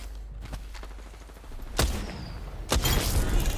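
Triple Take rifle fire in Apex Legends: a few sharp, loud single shots ring out over a steady game background, the later ones spaced about a second apart.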